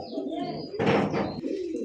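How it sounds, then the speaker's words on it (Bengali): A pair of high-flyer pigeons coo close by, with a soft, throaty rolling call swelling into a louder burst midway before settling back. "একজোড়া হাইফ্লার কবুতর"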